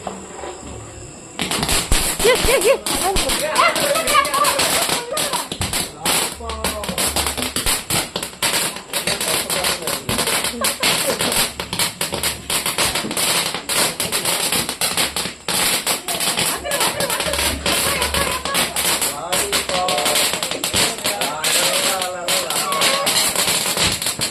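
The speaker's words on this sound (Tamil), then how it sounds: "இது லாலிபாப் வெடி எப்படி வெடிக்குதுன்னு பார்க்கலாம்" A lollipop firecracker set off during Diwali celebrations crackles with a long, rapid string of sharp pops and snaps lasting over twenty seconds, close and loud, while people talk nearby throughout.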